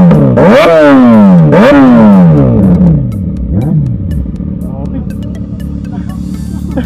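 A Kawasaki Ninja ZX6R motorcycle revs loudly nearby in two sharp rising blips, then settles into a lower rumbling idle as it pulls away, with brief voices in the background.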